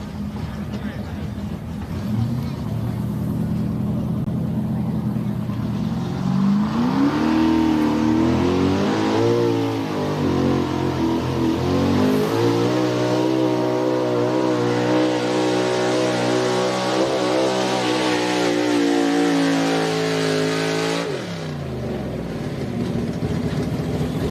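A pulling truck's engine roars loud and close at a championship truck and tractor pull in Snyder County, revving and climbing in pitch for about twenty seconds before cutting off, with an announcer talking over it.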